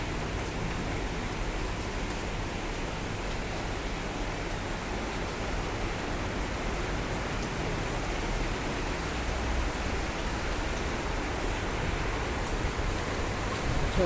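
Steady summer rain pours down in Vizag, soaking garden plants and banana trees, a dense, even hiss that holds at constant loudness throughout with no voices.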